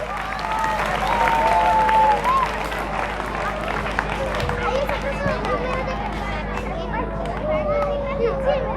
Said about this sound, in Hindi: तो सभी को जोरदार तालियां बजा देंगे